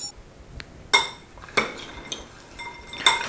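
Salad dressing ingredients with crushed croutons folded together in a small mixing bowl, with a handful of distinct utensil clinks and scrapes against the bowl separated by quieter stirring, close and with no talk.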